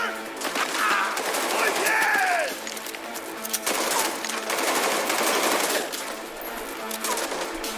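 Fully automatic pistol fire in Cyberpunk 2077, a dense rattling burst of rapid shots with whooshing effects and a slowed, bending tone, loud and busy, with game sounds continuing after.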